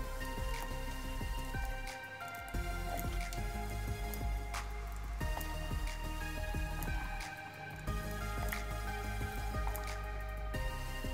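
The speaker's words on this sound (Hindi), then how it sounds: "अब दोस्तों बहुत ही सावधानी से इसमें जो ब्लैक इंक है डाल देते हैं।" Black ink squeezed from a refill bottle into the tank of an Epson L210 printer: a steady stream of close, soft dripping and squishy liquid spatters over a constant background hum, with brief quieter dips, and no talking.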